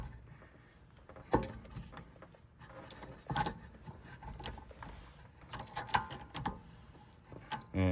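A caliper piston retracting tool is cranked on the rear brake of a 2015 Jetta TDI, giving faint metallic clicks and scrapes in uneven bursts, close by with no talking.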